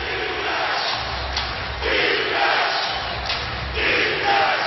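A capacity crowd of more than 20,000 basketball fans at the Verizon arena roars loudly and continuously, swelling in waves of cheering and shouting throughout.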